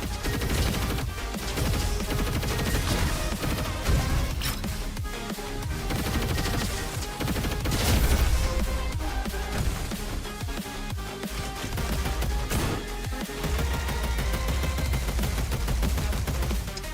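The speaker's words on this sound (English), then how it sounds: "It's like a blizzard rifle." A blizzard rifle in the video game RoboQuest fires continuously, a dense, steady barrage of rapid shots and crashing impacts layered over game music, unbroken for the whole stretch.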